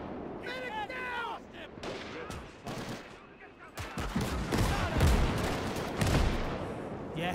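Gunfire in a World War II video game battle on Iwo Jima: repeated sharp shots and bursts, with loud heavy blasts in the second half, mixed with shouting voices and radio-like chatter.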